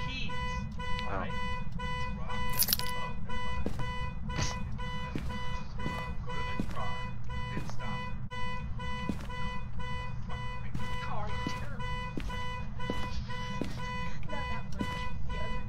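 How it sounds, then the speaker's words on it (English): A car alarm honks repeatedly in a horror video game, a steady rhythmic blaring that carries on throughout over dense game noise and low rumble. "The honking's still going on."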